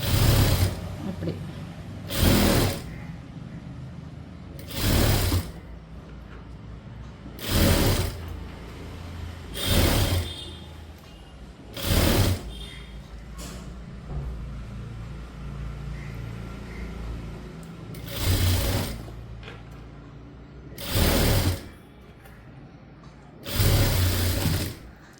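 A sewing machine runs a double stitch along a garment armhole in short loud bursts of rapid needle whirring, about ten runs separated by quieter pauses, close up.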